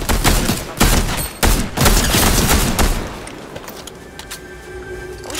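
Rapid bursts of Cobra DMR rifle fire in the Fortnite video game, several loud close shots in quick succession, then thinning out into quieter scattered cracks and game sounds.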